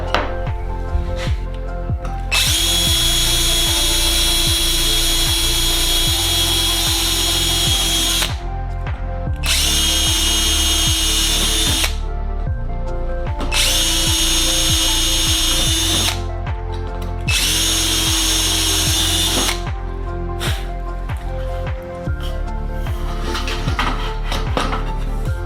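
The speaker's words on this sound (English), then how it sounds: "I'm just going to drill out these holes and make sure that I have them ready to go" A power drill bores holes in an aluminum rear spar extrusion during a Sonex kit aircraft build. It whines loudly and steadily in four long runs of several seconds each, separated by short pauses filled with clattering handling noise.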